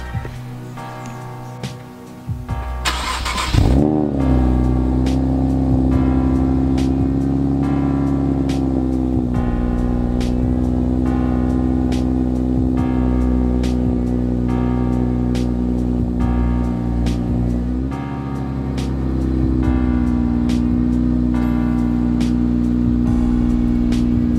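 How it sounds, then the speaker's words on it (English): A 2021 Infiniti Q50 Pure cold-starts with a brief starter crank and a loud catch, then idles steadily and close by with a raised, even hum and faint regular ticking throughout. "let me go ahead and do a quick cold start"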